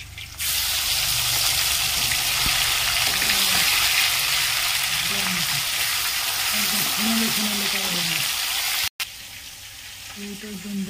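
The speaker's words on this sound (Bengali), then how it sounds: "তো ফ্রাই করতে শুরু করে দাও।" Chicken feet dropped into a smoking-hot wok set off a loud, steady sizzle that runs almost without a break, with a brief cut near the end and then softer frying.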